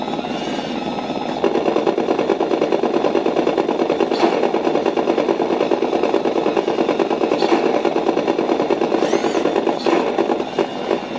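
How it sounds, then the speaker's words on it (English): Continuous rapid mechanical rattling from an M5A1 Stuart RC toy tank's machine guns and cannon, a buzzing electronic drone, with a few sharper bursts mixed in, loud and close. "let me just show you the machine guns firing as well as the cannon"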